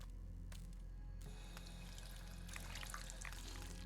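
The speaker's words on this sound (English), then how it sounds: "That's purified water." Water being consumed in Fallout 4, a short liquid pouring and trickling sound that fades in and out, with a brief sloshing burst near the end, heard faintly and with no talking.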